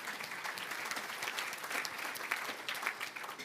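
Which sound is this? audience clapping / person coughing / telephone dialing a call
audience clapping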